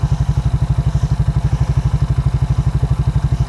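A 2001 Suzuki Quadrunner 250 4x4 ATV in mint condition idles close up, a loud, even, rapid thumping putter with a steady regular beat and no talking.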